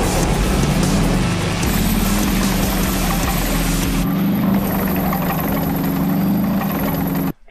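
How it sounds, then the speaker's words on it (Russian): A captured enemy military vehicle's engine runs with a loud, steady low drone and a mechanical hum, close by, shifting character partway through before cutting off abruptly at the end, with no talk. "Що там шуміт у них? Може, вже мотор працює?"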